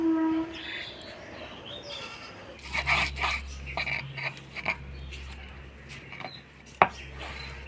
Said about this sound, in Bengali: এবার এই পাটাতেই আমি গন্ধে পাতিলার পাতাগুলা আধা বাটা করে নিব